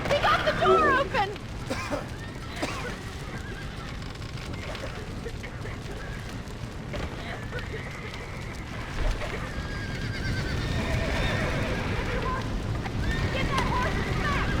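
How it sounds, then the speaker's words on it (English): A barn burns in the Red Dead Redemption video game with a steady roaring crackle throughout. A horse whinnies briefly at the start, and voices talk over the fire, which swells slightly toward the end. "The barn's on fire!"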